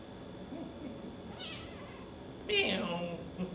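A cat meows a couple of times, fairly close, over a low steady background hum with faint voices.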